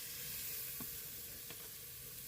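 Onion, garlic and ginger sauté in hot oil for a Kerala-style bone curry, giving a steady close sizzle with two brief clicks of a spoon against the pan.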